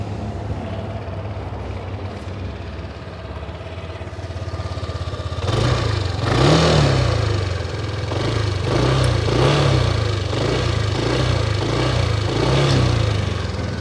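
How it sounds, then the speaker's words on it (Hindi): A 2023 Yamaha Aerox 155 scooter idles quietly, then its engine is revved repeatedly, with the rising and falling exhaust note coming in several close, loud bursts. "मतलब जैसे मैंने एक्सेलरेशन दिया तो गाड़ी हिलने लग गया"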